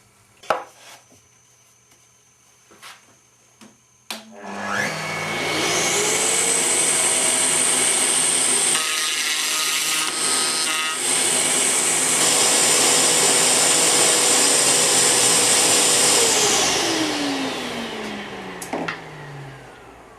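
A router table cuts a finger joint with a mortising bit. A few light knocks come first, then the router spins up to a loud steady whine with cutting noise and winds down toward the end.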